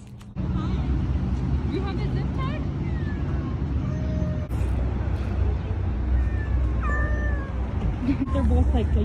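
Two trapped young cats meow repeatedly in short, rising calls over a steady low rumble, as if in a vehicle, with a person talking nearby at times.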